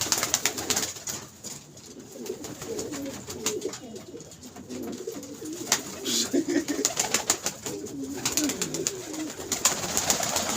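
Pigeons cooing close by in a loft, with repeated soft throaty coos rising and falling over a faint background, joined by occasional clicks and rustles.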